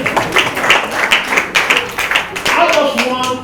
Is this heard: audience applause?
yes